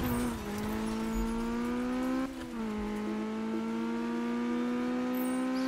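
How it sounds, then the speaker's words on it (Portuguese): A car drifts in the Need for Speed racing game on PS4, its engine holding a steady, loud drone with a brief dip as it shifts, the tone sliding slightly as it slides through the turn. "tamo aqui fazendo os drift"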